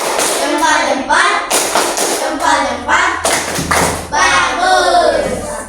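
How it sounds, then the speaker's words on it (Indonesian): Classroom group applauds presenters, dense clapping with thumps and taps running throughout, mixed with children's voices talking and calling out over the hands. "Tepuk tangan untuk kelompok 1."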